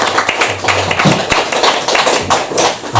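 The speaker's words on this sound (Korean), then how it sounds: "다시 한번 박수로" Applause fills a church after a short speech about a pastor leaving to serve two struggling churches, a dense continuous clatter of many hands clapping, steady and close throughout.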